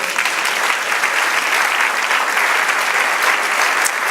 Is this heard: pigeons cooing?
no